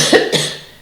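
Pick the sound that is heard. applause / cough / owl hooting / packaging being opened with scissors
cough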